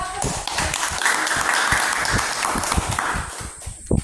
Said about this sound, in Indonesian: kita tepuk tangan untuk kelompok satu